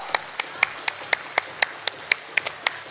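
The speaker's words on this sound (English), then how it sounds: "let's give a huge round of applause to Mr. Kawal Kumar Arora." Sparse, evenly spaced handclaps at a corporate conference session in Hyderabad, about a dozen sharp claps at a steady rhythm, close by and isolated rather than a full crowd roar.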